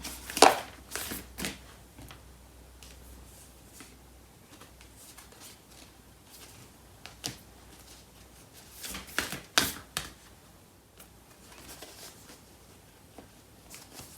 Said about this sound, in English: So I'm going to pull out a card for this overall connection.